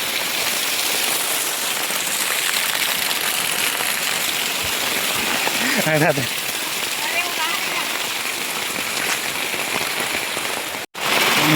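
Continuous rainfall hisses close by for the whole stretch, with a short voice-like sound briefly rising above the wash of drops.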